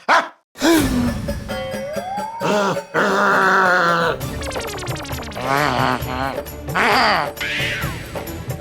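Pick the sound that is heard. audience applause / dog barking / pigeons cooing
dog barking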